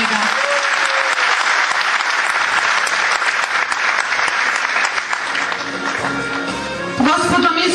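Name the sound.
audience applause for a speaker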